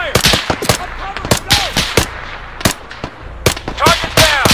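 Rapid bursts of military gunfire in a firefight, sharp close cracks repeating in quick volleys with echoing tails, as soldiers lay down cover fire.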